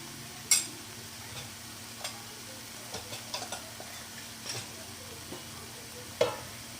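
Okra and onions with red chilli powder, turmeric, garam masala and coriander powder fry in a pan, a faint steady sizzle broken by sparse scraping stirs and a few sharp clinks of the spoon.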